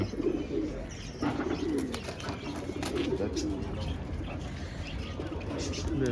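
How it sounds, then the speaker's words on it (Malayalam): Soft, repeated cooing of young pigeons close by, with occasional chirps and light rustling over a constant background hum. "ഇവിടെ വിരിഞ്ഞിറങ്ങിയിട്ടുള്ള പ്രാവിൻ്റെ കുഞ്ഞന്മാരാണ്"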